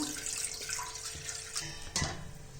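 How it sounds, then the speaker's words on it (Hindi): A glass of water splashes and pours into a metal pot in short bursts while cooking sarson ka saag, with a few faint clinks, quiet and close, no talking. "अब मैं इसमें डाल देती हूँ 1 गिलास पानी।"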